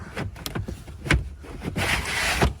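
A retractable trunk cargo cover in a Chevrolet Nubira car is pulled out, giving several short sliding and rattling sounds with a few sharp clicks, close and moderately loud, without speech.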